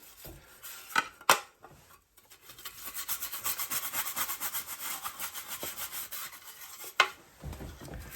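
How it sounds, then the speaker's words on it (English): Greasy stove top parts are scrubbed by hand, with steady rhythmic brushing strokes, a few sharp knocks and a brief pause, close and fairly loud. "I wish I could show you me scrubbing, but it's hard to do."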